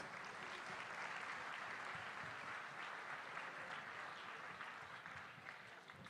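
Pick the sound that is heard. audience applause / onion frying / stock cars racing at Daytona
audience applause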